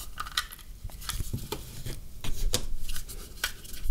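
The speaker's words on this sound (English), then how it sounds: "The palette has this lid that detaches and attaches easily." The plastic lid of a small portable watercolor palette is taken off and clipped back on, giving a string of light clicks, taps and plastic rattles at close range with no talking.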